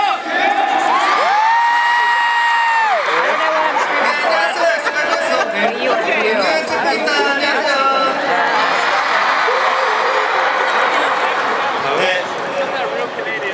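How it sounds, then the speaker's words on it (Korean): Concert audience at an Asia Song Festival show in Daegu cheering, shrieking and applauding, with loud high-pitched screams and whoops over dense crowd noise that continues throughout. "박수 시원하게 주세요!"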